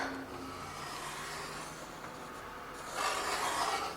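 A pencil scrapes along a ruler on a Starlink dish case, a close, dry rubbing stroke lasting a few seconds that grows slightly louder near the end.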